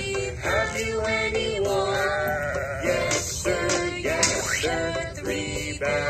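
Several sheep bleat close by in a rapid string of overlapping wavering calls, loud and continuous, with no talking.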